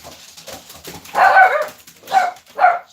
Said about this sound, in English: Dog going nuts.